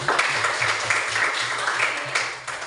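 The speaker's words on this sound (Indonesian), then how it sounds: "tepuk tangan dulu untuk Nona Esa" A classroom of students applauds a classmate, a steady, dense patter of clapping that holds for a few seconds at moderate volume.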